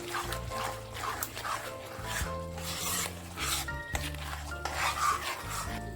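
Onion and yogurt paste being stirred into a chicken kofta masala in a pan, a steady scraping and mixing with faint sizzle and pot clatter, close and continuous, no talking.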